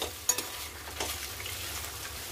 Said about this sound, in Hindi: उसके बाद हम इसे चलाते हुए इसे हम फ्राई कर लेंगे।